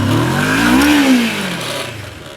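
Motorcycle engine during a 180-degree power U-turn from a stop, clutch slipped as the bike leans: a close, steady mid-pitched engine note that rises briefly then falls back, with no talking.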